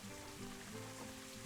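Rain falling on a map in the zoo-building video game Planet Zoo, a soft, steady patter that stays faint throughout with no voices.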